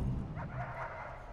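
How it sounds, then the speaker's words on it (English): Guard dogs in the prison-management game Prison Architect give a quick burst of barks and yips, close and loud over a short stretch. "Oh, dogs are barking."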